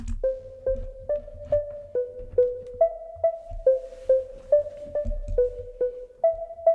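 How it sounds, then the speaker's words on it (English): A synthesized bell plays a steady sequence of short, bright plucked notes, stepping through a simple melody in an even rhythm with quick decays. "you can use any sort of bell sound"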